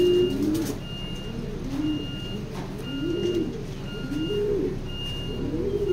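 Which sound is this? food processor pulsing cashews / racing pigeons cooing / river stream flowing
racing pigeons cooing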